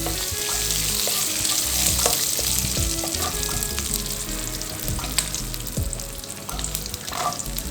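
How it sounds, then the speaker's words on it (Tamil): Curry leaves fry with mustard, cumin and fenugreek in hot oil, giving a loud, steady sizzle broken by crackling pops and occasional stirring clatter, with no one talking. "இப்போ நம்ம எடுத்து வச்சுருக்க அந்த கருவேப்பிலையை அதில் சேர்த்துடலாம்"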